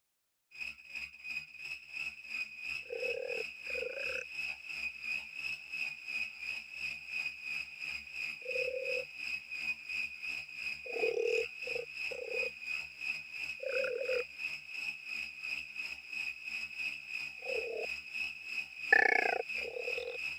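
Synthesized frog croaks and cricket chirps from electronic sound design: steady high shrill tones run throughout, while short croaking bursts come at irregular intervals, with a louder one near the end.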